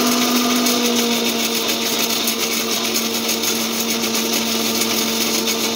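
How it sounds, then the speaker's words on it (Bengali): An electric mixer grinder whirs loudly as it grinds garam masala, a steady high-pitched motor whine that holds constant throughout with no talking. "মিক্সিটা চালিয়ে মিক্সিতে দেখুন গরম মশলাটা গুঁড়ো করে নিচ্ছি।"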